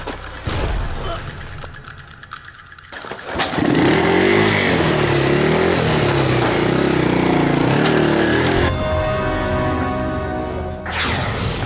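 A motorcycle engine starts and revs loudly, then holds a sustained running roar as it rides off, with the sound fading toward the end; brief voices are heard near the start.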